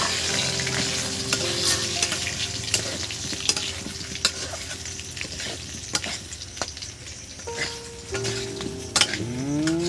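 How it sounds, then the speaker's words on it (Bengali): Fried potato pieces go into hot oil for aloo dum, giving a continuous sizzle under frequent spoon stirring and clinks of utensils against the pan, with a few sharper scrapes near the end. "এবার এই তেলেরই মধ্যে দেখুন এই ভাজা আলুগুলো দিয়ে দিচ্ছি।"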